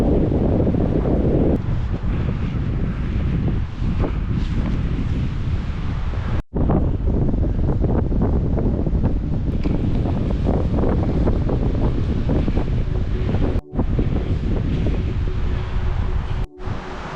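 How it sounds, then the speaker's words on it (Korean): Strong wind blows across the summit area of Sobaeksan during a spring azalea hike, a loud, continuous roaring gust noise buffeting the microphone, with no talking. "바람이 강하게 불고 있죠."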